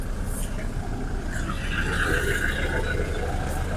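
A Toyota Fortuner's engine turns over and settles into a steady idle, a constant low mechanical hum that swells briefly after starting and then stays even, heard up close.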